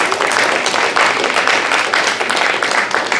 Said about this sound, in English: please give them a round of applause for supporting us with the AV